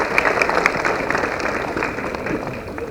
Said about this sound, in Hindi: सदन एक बार तालियां बजाएं